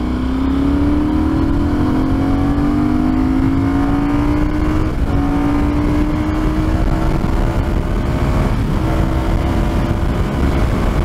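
A Benelli Leoncino 800 Trail motorcycle accelerates hard on an empty road, its engine note climbing steadily through the revs with brief dips at gear changes, loud and close, without speech.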